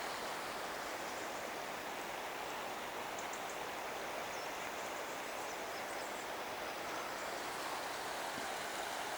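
Steady broadband rushing of a flowing river in the Scottish Cairngorms, constant and unbroken throughout, heard up close.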